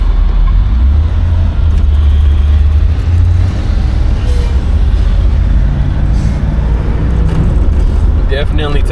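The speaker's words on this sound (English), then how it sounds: "I'll give it a little bit of gas, get on the throttle a little bit just to see how she does" A 1967 Chevelle SS engine rumbles steadily and loudly as the car accelerates on throttle down a straight road, with a deep low drone throughout.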